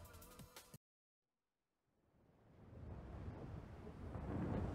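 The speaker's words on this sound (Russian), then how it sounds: "Двигается буря." Rumbling storm building in Forza Horizon 5, a low roar of thunder and wind swelling steadily louder after a brief cut to silence, with no voices over it.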